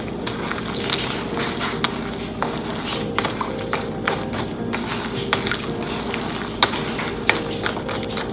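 Flour being stirred into jaggery water for sweet pooras makes a continuous scraping, sloshing texture, dotted with sharp clicks of the utensil against the vessel at irregular intervals.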